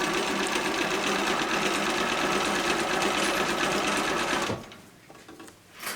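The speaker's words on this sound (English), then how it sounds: "So I'm sewing with this serger stitch" Serger stitching along the raw edge of canvas for a grocery bag, a fast, even mechanical whir close by that stops abruptly near the end, followed by quiet handling.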